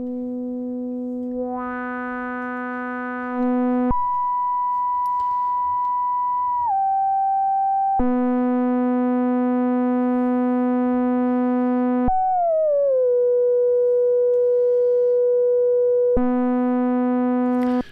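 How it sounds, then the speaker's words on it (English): A Korg ARP 2600M synthesizer holds steady tones that alternate between a bright, buzzy sawtooth and a pure, smooth sine wave, with occasional pitch glides at each switch. "So you can hear it switching back and forth between the sawtooth and the sine wave."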